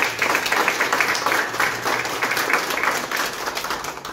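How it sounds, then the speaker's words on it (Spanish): Sustained applause from an audience at a school poetry contest in Tejupilco, 2024: a dense, steady wash of many hands clapping together, fairly loud and continuous throughout with no voices over it. "para quien pido un fuerte aplauso"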